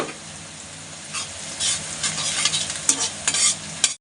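About an inch of grated ginger goes into a hot pan already frying green chillies for an Aligarh-style potato curry, a steady close sizzle with scraping stirs and clacks growing busier toward the end.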